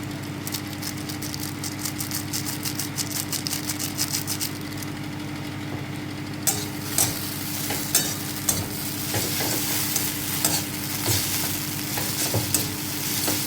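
Chow mein is stirred in a pan on a gas stove after Maggi masala is added, with a soft, steady sizzle over a low hum, then louder spatula scrapes and taps repeating at close range in the second half, and no talking.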